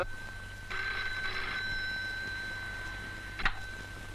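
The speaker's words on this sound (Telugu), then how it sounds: "నాన్సీ, నీకు ఫోను." A household telephone rings in a single steady electronic burst lasting a few seconds, fairly close and alone, followed by a brief click.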